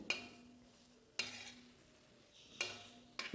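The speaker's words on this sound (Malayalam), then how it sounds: "കൈ വിടാതെ ഇളക്കിക്കൊണ്ട് നിൽക്കണം ഇല്ലെങ്കിൽ നമ്മുടെ പാത്രത്തിന് അടിയിൽ കരിഞ്ഞു പിടിക്കാൻ സാധ്യതയുണ്ട്" Jackfruit jam is stirred continuously in a bell-metal uruli. A spoon scrapes the thick mass with soft wet stirring, and sharp metallic clinks ring out against the pot rim several times at irregular intervals.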